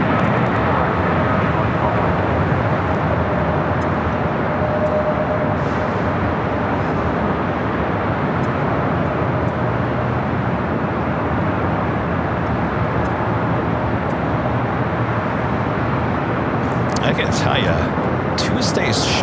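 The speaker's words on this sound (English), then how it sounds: "We do have a 777 freighter rolling down. 25 right." A Boeing 777 freighter on its takeoff roll down runway 25 right at LAX: a broad, steady jet roar heard from a distance that holds constant and loud throughout, with a few faint clicks near the end.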